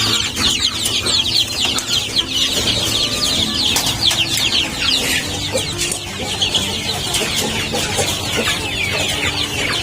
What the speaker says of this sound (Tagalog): Ito yung mga sisiw na inaalagaan ko. Wala nang gamit na ilaw. Ito yung aking mga Brahma.